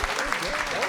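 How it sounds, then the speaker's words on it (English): Audience applause for panelists at the close of a panel discussion, a brief dense wash of clapping from a crowd, with a voice over it. "please give our panelists a round of applause."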